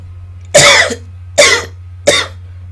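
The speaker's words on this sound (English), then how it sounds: "You may feel like you need to cough right now." Three distinct coughs from one person, each a sharp broadband burst spaced roughly a second apart, close and clear over a steady low hum, with no talking.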